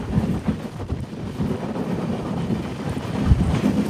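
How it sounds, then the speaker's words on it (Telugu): The Visakhapatnam Weekly SF Express (22802) from Chennai runs at speed, heard from on board as a loud, continuous rumble and wind rush with occasional knocks from the wheels on the rails. "మంచి స్పీడ్ అయితే పోతుంది ట్రైన్ ఇక్కడ"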